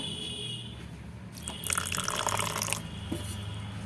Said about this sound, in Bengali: আরও জল দেব